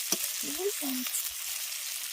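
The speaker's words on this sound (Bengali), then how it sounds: "দুই পিঠ উল্টে পাল্টে একটু লাল করে ভেজে নেবো" Bottle gourd pieces fry in oil as they are turned over on both sides, giving a steady soft sizzle with a few brief stirring scrapes close by and no talking.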